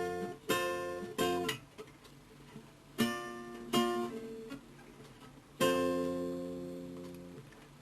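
Acoustic guitar playing wide chromatic chords in sequence, each chord strummed and left to ring, several struck in close pairs and others sustained for a couple of seconds, clear and close with no talking.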